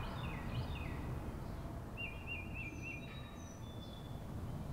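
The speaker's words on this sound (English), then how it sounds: "I can feel these birds going all around my head." Birds chirp and whistle in short trilling phrases over a steady low rumble of ambience, with the calls rendered in spatial 3D audio so they seem to move around the listener.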